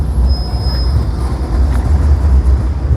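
A Sofia tram rolls along its rails with a steady low rumble of wheels and car body, continuous and fairly loud throughout, no voices.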